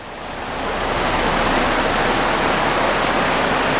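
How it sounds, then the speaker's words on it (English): Water rushing down a wooden trough at a 45-degree angle onto a horizontal water wheel at an old Great Smoky Mountains homestead; a loud, steady, broadband roar that swells in over the first second and then holds constant, with no voices. "So as the water comes down at a 45-degree angle, it hits that and turns it."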